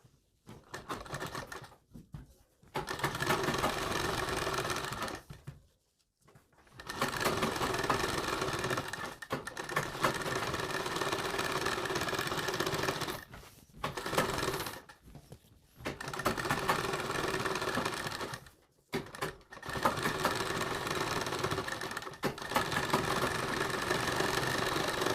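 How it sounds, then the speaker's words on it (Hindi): A sewing machine runs in long bursts of rapid, even stitching on blouse back neck pattern pieces. The runs are broken by short pauses, and the sound stays fairly close and moderately loud. "इसी प्रकार से दोनों साइड में आपको सिलाई लगा देनी है।"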